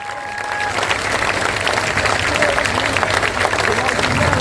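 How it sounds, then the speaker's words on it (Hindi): Audience at a political rally clapping loudly and steadily, a dense sustained wave of applause filling the whole stretch, with voices mixed into the crowd noise. "जोर से ताली बजाइए।"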